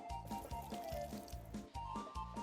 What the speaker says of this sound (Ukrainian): Водички трошки змочимо.